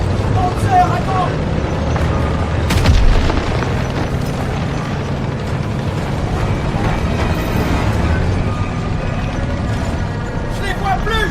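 Gunfire and explosive booms from an in-game World War II battle in Call of Duty WWII, with armored vehicles nearby, form a dense, continuous roar, with a heavier blast around the third second and voices shouting over the fighting.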